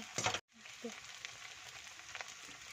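Chow mein with egg and chicken stir-fried in a hot pan, a soft continuous sizzle with occasional stirring scrapes and a brief louder clatter near the start.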